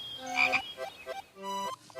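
A frog croaks in a children's fairy tale, a few close, clear, tonal croaks and chirps in quick succession with short pauses between them.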